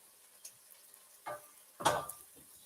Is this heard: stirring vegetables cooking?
yes